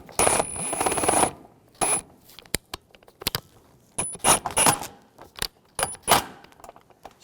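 Screws are started by hand into the radiator support of a 2011-2018 Volkswagen Jetta, making close, intermittent metallic clinks, jingles and short rattles separated by quiet pauses, with no talking.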